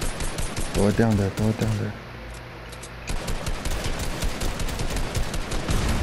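Rapid bursts of video game gunfire crackle through the back half of a shootout, following a stretch of close talking between players.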